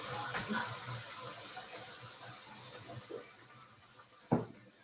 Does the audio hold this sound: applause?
no